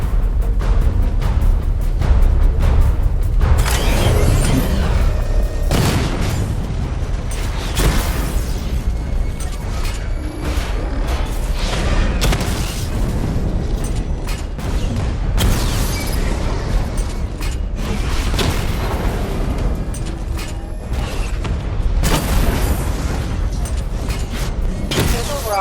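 A tank's missile barrage in the video game Batman: Arkham Knight, dense rapid booming explosions and rumbling blasts that go on nearly nonstop, loud and close throughout.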